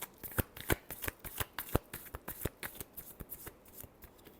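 A deck of tarot cards being shuffled by hand, a quick series of sharp riffling slaps and flutters in an irregular rhythm, close and fairly quiet, with no voices.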